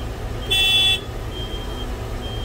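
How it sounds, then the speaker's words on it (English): A single short, bright truck horn honk rings out briefly over a steady low engine rumble. "These are not very manly horns."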